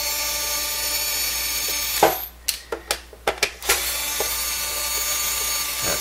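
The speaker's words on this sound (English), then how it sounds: "Electric screwdriver saves so much time." An electric screwdriver removing Phillips screws from the underside of a roller controller: a short whirring spin, then several quick clicks and clatters as screws come out, before a steady background hum returns.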